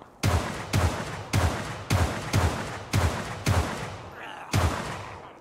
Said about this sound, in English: I like the sound of the guns.